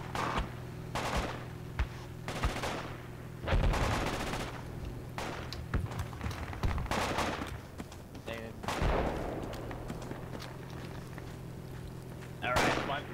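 Video game gunfire: repeated loud bursts of shots and blasts spread across several seconds, over a constant low background hum.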